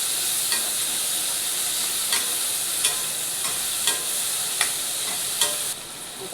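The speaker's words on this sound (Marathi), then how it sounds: "आता त्यात टोमॅटो घालूयात. तेल परतवून घेऊया." Tomatoes and onions sizzle steadily in hot oil, with a spoon or spatula scraping the pan in regular strokes about once a second; no voices.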